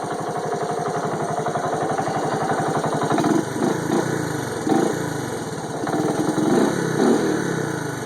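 A 1984 Honda ATC 125M three-wheeler's small engine runs steadily and close by with a dense buzzing drone, rising and falling slightly in brief surges of throttle throughout, with no voices.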